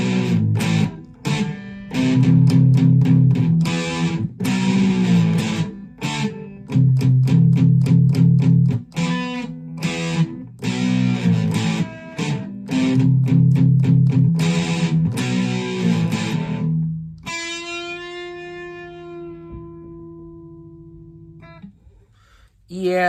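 A heavily distorted electric guitar plays chugging rhythmic chords in bursts, then ends on a sustained ringing note that slowly fades.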